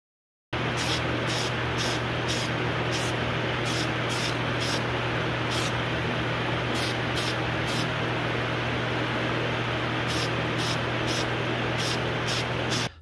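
Repeated short bursts of an aerosol spray can priming pieces of an alligator swimbait fishing lure clipped up for painting, loud and close, with steady background hum between blasts.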